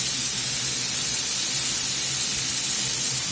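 Beef searing in a large skillet over medium-high heat, a steady, loud, dense sizzle and hiss that holds evenly throughout with no talk.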